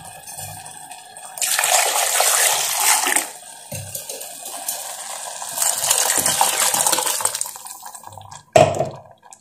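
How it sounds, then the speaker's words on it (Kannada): Water is poured into a mixer jar with leftover spice paste, making a steady splashing gush that comes in waves and is briefly interrupted, ending with a sharp clatter. "ಇವಾಗ ಇದಕ್ಕೆ ಸ್ವಲ್ಪ ನೀರು ಆಡ್ ಮಾಡೋಣ"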